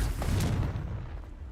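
Confringo, a fire blast spell in the video game Hogwarts Legacy, goes off as a short, loud, low boom that fades into a rumbling tail.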